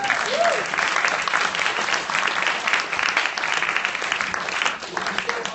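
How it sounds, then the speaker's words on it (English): An audience gives a quick round of applause for Cameron, with steady, dense clapping close by throughout and a few voices mixed in. "Well, I need a quick round of applause for Cameron."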